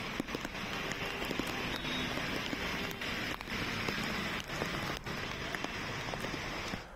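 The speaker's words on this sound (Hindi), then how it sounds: "मुंबई और मुंबई के उपनगर में बरसात ने कोहराम मचाना शुरू कर दिया है।" Heavy monsoon rain pours down in Mumbai, a dense, continuous hiss of drops on surfaces with scattered sharper spatters throughout, steady and close.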